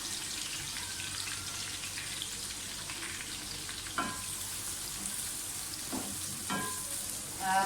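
Onions hitting hot oil in a pan for spicy degi mutton biryani, a steady close sizzle and crackle throughout with a few brief stirring scrapes and clatters, no talking.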